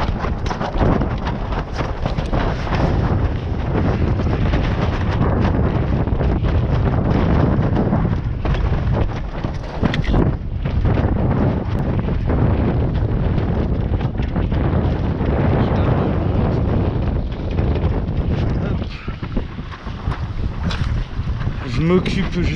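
Strong wind blows across a small mini sailboat returning from Vendée. Loud, close wind noise roars and buffets continuously against the microphone, with water and rigging sounds mixed in throughout.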